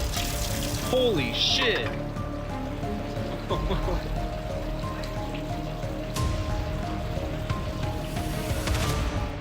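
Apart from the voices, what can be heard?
water gushing out from under a car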